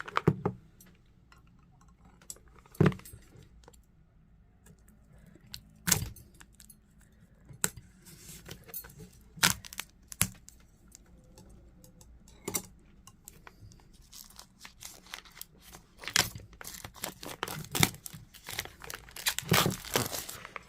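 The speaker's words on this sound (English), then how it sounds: "let's open up this beautiful deck" Sharp intermittent crinkles, taps and scraping as the stiff lift-off cardboard box of a Hay House oracle card deck is worked open, with scattered close clicks over a quiet background and no talking.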